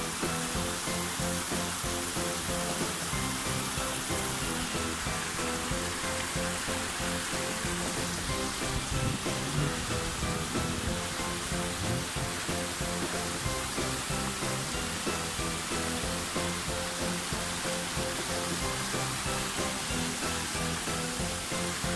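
A mountain stream near the Lausbach waterfall rushes downhill and under a bridge, giving a constant, loud broadband roar of flowing water that holds steady throughout with no voices.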